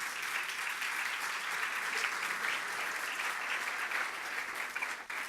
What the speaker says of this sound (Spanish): Alguien que le vuelva a dar un aplauso maravilloso a nuestro Dios.